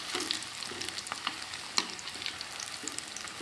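Beetroot and potato kababs fry in a pan with a steady, close sizzle and crackle, occasional sharper pops breaking through, and no talking.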